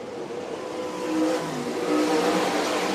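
Limited sprint cars roar off at the start of a state title race at a dirt track, a dense wall of engine noise that swells as they accelerate, heard from a distance with no talking.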